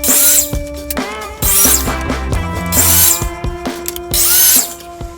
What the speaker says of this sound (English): Now we're going to go ahead and cut a 45-degree miter from the very edge of each piece